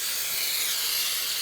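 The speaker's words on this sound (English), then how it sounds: "we're going to take some Joy, and we're going to spray a couple of 8-inch cake pans" Cooking spray from a Joy can hisses in a steady, continuous burst into a pair of 8-inch cake pans, close and fairly loud, with no talking.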